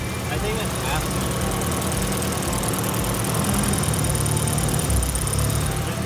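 A car engine with a single cam, idling steadily after a repair, loud and continuous throughout.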